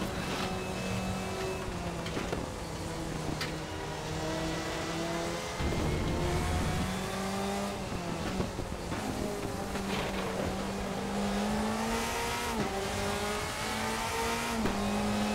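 A 2005 Mercedes DTM race car engine in RaceRoom racing sim roars steadily and loud throughout, with rising and falling revs through the gears and brief tire noise, no talk.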